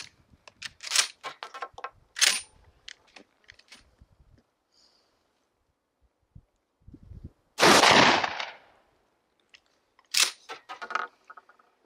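A smoothbore shotgun fitted with a reflex sight fires at targets set on the ground: several sharp, loud reports spaced a few seconds apart, with one heavier blast in the middle and quiet pauses between shots.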